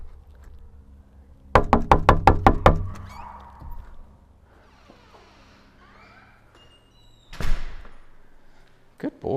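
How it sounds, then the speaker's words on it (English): A run of about seven quick, loud knocks on a door, followed by quieter rustling and a distant voice, then a single heavier bump near the end. "I'm going to leave the building here and knock."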